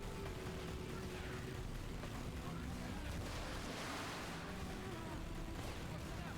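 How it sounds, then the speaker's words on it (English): Layered explosions in Tomb Raider: Legend pile into a dense, continuous roar of booms and rumbling blasts, loud and unbroken throughout, with no clear separation between individual hits. "the explosion audios keep layering over each other"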